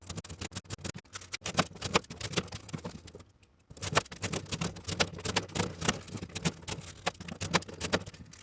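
Cardboard box being cut with a 3D-printed blade tool, a close, continuous rough scratching and tearing with rapid clicky strokes, broken by one brief pause before the cutting resumes.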